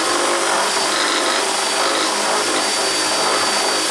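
A power drill turns a step-up bit through a hole while fitting a toggle switch on a Harley Road Glide, giving a loud, steady, close whirring grind that runs unbroken throughout.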